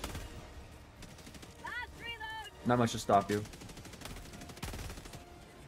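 Gunfire in the video game Helldivers 2, a few sharp bursts of rapid shots clustered mid-sequence with electronic chirps before them, heard over players talking.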